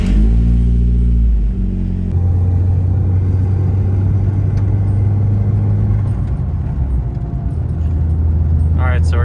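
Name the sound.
car accelerating onto the highway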